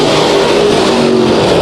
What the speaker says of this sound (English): these cars are going to fly around this track